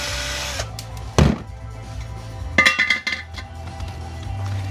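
Screws being backed out of an extruded aluminum LED light strip with a power driver, giving a short whir near 1.2 seconds and another burst of whirring and metallic clinks around 2.6–3 seconds over a steady low hum.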